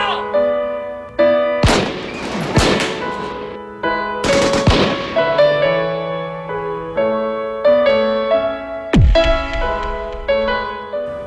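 Sharp gunshots from police returning fire at a shooter ring out in irregular bursts over a dramatic music bed, loud and close, with a heavy boom near the end.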